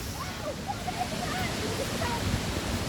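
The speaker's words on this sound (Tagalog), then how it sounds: "Ayan po ang falls." A waterfall at Lake Sebu gives a steady, broad rushing roar that fills the few seconds evenly, with no clear voices over it.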